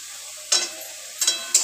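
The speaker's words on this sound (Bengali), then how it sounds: "এইবার ভালো করে নেড়ে নেবো" Vegetables in a pan with chili powder and sugar are stirred over a faint, steady background sizzle. Three short, louder scraping bursts come from the spoon or spatula moving the food.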